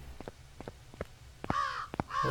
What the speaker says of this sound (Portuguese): Esses corvos não estavam, né?